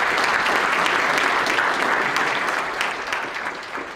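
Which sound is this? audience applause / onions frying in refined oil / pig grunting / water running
audience applause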